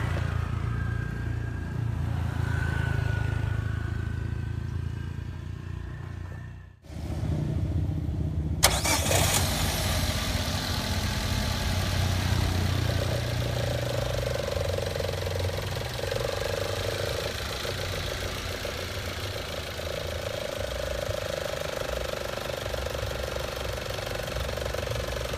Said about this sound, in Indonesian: langsung kita hidupin mesinnya guys